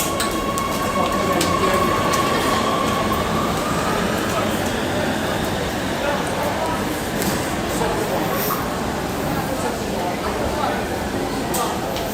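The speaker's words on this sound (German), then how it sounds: "meint ihr, wir kriegen die Bahn noch, die in 2 Minuten fahren soll?" A train departing in Oslo during the 17 May National Day celebrations: a steady, loud rumble of rail noise with faint wheel squeal that fills the whole stretch, and voices in the background.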